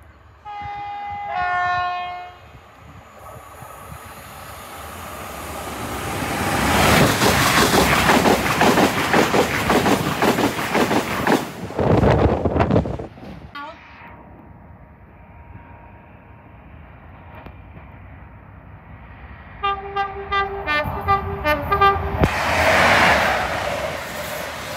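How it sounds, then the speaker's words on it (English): Great Western Railway HST power car 43016, a high speed train, starting away at Bridgwater station: two-tone horn blasts, then a loud building diesel roar with rhythmic wheel clatter, fading, before further horn sounds near the end. "Starting out now is Great Western Railways 43016 and"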